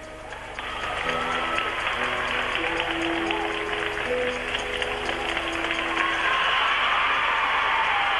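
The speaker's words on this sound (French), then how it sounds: "Formidablement acclamée Bianca Panova ici" An arena crowd applauds gymnast Bianka Panova after her hoop routine at the 1989 World Championship in Sarajevo, a dense, sustained clapping that swells and holds throughout with faint music underneath.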